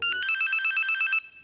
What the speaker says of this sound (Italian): Il cellulare